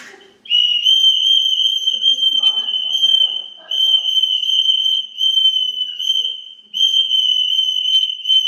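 A shrill, steady whistle blown in three long blasts separated by short breaks, loud and close.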